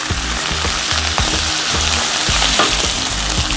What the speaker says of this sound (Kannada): ಇದು ಸಿಡಿಯೋಕ್ಕೆ ಶುರುವಾಗ್ತಿದ್ದಂಗೆ ಒಂದು ಸ್ವಲ್ಪ ಕರಿಬೇವಿನ ಸೊಪ್ಪು, ಸಣ್ಣದಾಗಿ ಹೆಚ್ಚಿರುವಂಥ ಈರುಳ್ಳಿ